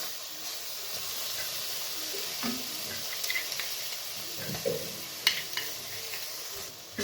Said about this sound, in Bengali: ভালোভাবে আবার নেড়ে চেড়ে নিই।